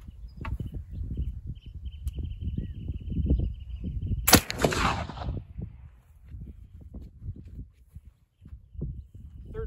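Flintlock firearm fired with 2F GOEX black powder gives a single sharp, loud report, followed by a brief rushing decay. Talk and handling noises run before and after it.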